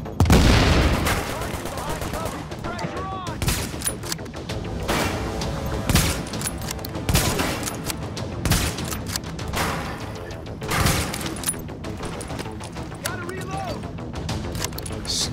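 Sustained gunfire from The Division video game: dense, rapid bursts of sharp shots and cracks that repeat throughout the scene, with heavy booms and impacts among them.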